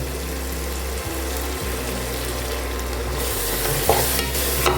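Turkey berries sautéing with curd and rock salt in a pan for biryani, a loud continuous sizzle and stirring over a low steady hum, with no talk.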